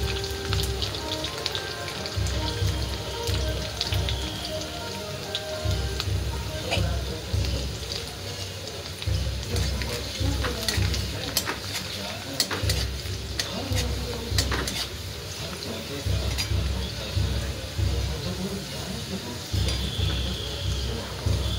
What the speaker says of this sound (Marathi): आता टाकत आहे मिरची।